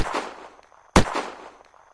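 Two loud gunshots from the Sabertooth gun in the game Unturned, one near the start and a sharper one just before the midpoint, each trailing off into a short echoing decay, with no talking.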